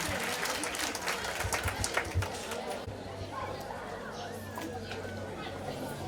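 Audience applause and crowd chatter for a former students' representative at a school excellence ceremony at Lycée du Manengouba in Nkongsamba, fairly strong at first, then thinning into steady background murmur.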